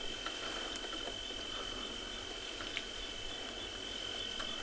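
A constant chorus of crickets trills in the savanna bush at dusk during a sunset safari, quiet and even with a faint sustained high tone and scattered clicks.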